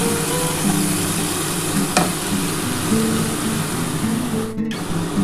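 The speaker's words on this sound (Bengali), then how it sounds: "খুব ভালোভাবে মশলাটা একটু কষিয়ে নিই, তবে খুব বেশি কষাবো না" A paste of onion, mustard, green chili and tomato for tilapia fish curry fries in a pan with a loud, continuous close sizzle, and a single scrape of the spatula cuts through partway.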